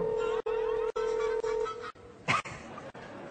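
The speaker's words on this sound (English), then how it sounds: "Nice ringtone." A phone plays a short electronic ringtone, steady beeping tones in rhythmic pulses, followed by a brief click and quieter tones.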